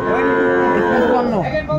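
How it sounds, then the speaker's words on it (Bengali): A young Sahiwal bull calf at a cattle market gives one loud, close moo that slides downward in pitch over about two seconds before it fades out. "শাহিওয়ালের ষাঁড় বাচ্চা বেশ সুন্দর"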